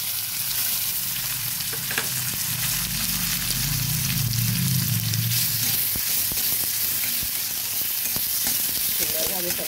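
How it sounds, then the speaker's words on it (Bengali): Chopped tomatoes fry in a pan with a steady, close sizzle that continues throughout, broken by occasional stirring scrapes and a low rumble early on. "ভালোভাবে টমেটোটা ভেজে নিলাম।"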